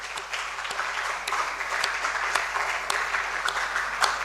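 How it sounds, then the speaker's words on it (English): An audience at an inter-school debate claps steadily in a dense, continuous patter of applause, with a few sharper individual claps standing out. "Let's clap for them."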